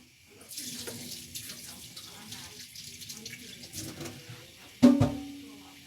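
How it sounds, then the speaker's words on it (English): A kitchen tap runs steadily while hands are washed during cooking, with a continuous hiss of flowing water and faint handling noises under some talk, ending with a louder clunk near the end. "let me quickly wash my hands"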